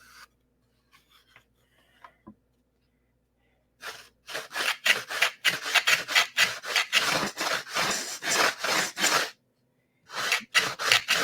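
Sanding of a wooden model airplane fuselage, close rhythmic rasping strokes in a fast steady run after a quiet start with small taps, pausing briefly before a few more strokes.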